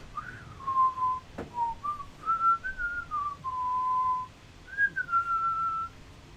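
A single person whistles a slow, wavering tune, phrases broken by short pauses, clear and close with no talking.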